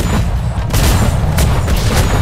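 Cannon fire booms in a video game, a dense, loud barrage of blasts rumbling continuously with sharper cracks layered over a heavy low roar.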